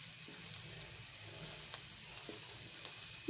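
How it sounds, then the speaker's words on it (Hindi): About two spoonfuls of ajwain (carom seeds) fry in oil for a fish salan, giving a soft, even sizzle with faint scattered pops and light ticks, close but quiet. "इसको अच्छी तरह से मिक्स करके फ्राई कर लेंगे तकरीबन 5 मिनट के लिए।"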